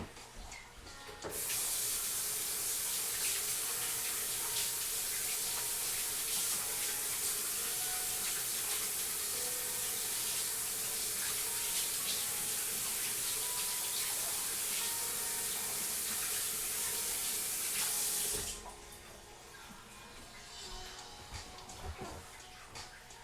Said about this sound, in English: I'm gonna wash my hands because they nasty.